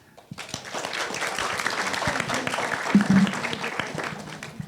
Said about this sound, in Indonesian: kita beri tepuk tangan lagi teman-teman semuanya